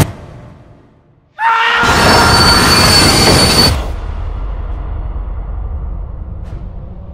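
The Orient Express train rushes by loudly with a sudden roar and high screeching wheels, then settles into a lower rumbling rolling sound.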